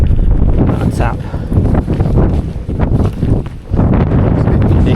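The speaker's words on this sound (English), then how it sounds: "It's a bit windy." Strong coastal wind gusts buffet the microphone on a beach during winter fossil hunting for ammonite nodules, a loud continuous low roar that swells and dips, with people talking through it.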